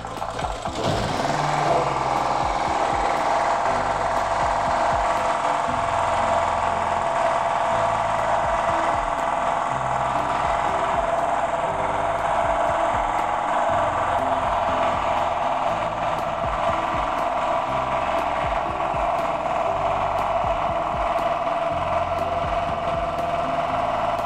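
A generator runs steadily during a voltage test while converting its AVR to a bridge rectifier, giving a continuous loud mechanical drone with a whiny high hum that holds without pause from start to finish.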